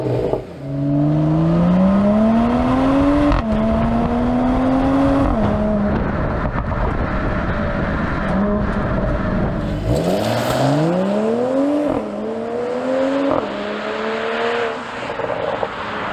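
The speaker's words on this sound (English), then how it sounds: "it's a pretty good sounding engine as well" A 2021 Mercedes-Benz E53 AMG Coupe engine revs hard through several rising gear pulls, the exhaust growling loudly up close, then eases off and climbs again.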